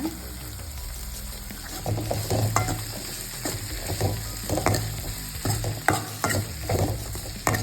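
Boiled chickpeas for a Tamil chickpea sundal kulambu are sautéed in a little oil, giving a steady close sizzle broken by repeated spatula stirring and scraping against the pan, with no talking.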